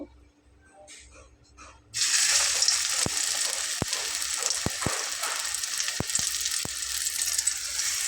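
Flour dough snacks dropped two at a time into hot oil, sizzling and crackling steadily after a sudden onset, close and fairly loud, with a few sharp clicks of a utensil; no talking.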